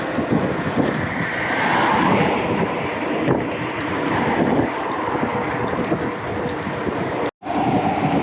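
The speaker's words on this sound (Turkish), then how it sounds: "Rüzgar bana göre şu an tam kuzey batıdan esiyor." Strong northwest headwind buffets the microphone during a bicycle ride near İğneada in a constant roaring rush, with a brief dropout near the end.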